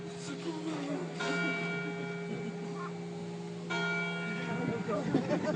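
A church bell rings in two bursts of sustained, shimmering tones separated by a short gap, moderately loud, with a low steady hum and some voices underneath.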